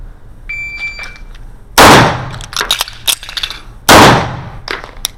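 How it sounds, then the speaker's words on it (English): A Bul 1911 single-stack 9x19 pistol fires two loud, sharp shots about two seconds apart, with metallic clicks and handling of a reload and slide release between them, and a brief electronic beep at the start. "So a shot, reload, slide stop, a shot."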